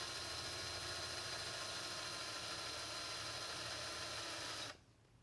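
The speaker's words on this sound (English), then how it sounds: "I needed to drill some holes into the skull itself" A drill whirs steadily and continuously at close range while making holes in a crafted D&D lich skull, then cuts off sharply near the end, leaving near silence.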